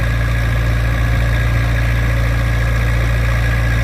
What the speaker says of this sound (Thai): อันนี้เร่งสุดแล้วครับใส่เกียร์สอง